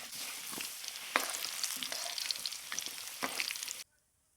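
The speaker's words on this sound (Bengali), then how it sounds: "মাংসের আলু একটু হলুদ আর লবণ দিয়ে ভেজে নিলে আলু খেতে কিন্তু খুব ভালো লাগে।" Potato pieces fry with turmeric and salt in hot oil for a duck curry, making a quiet, close crackling sizzle with a few sharp stirring knocks before it cuts off abruptly near the end.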